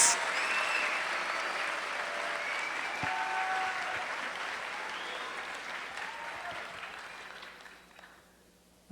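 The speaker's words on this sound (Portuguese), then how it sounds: "Salva de palmas." Steady applause from a church congregation fills the space, sustained for several seconds before tapering off near the end.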